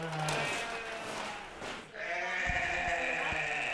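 Sheep on a small island farm bleat loudly and close by, with a long wavering call followed by another sustained bleat over faint outdoor background.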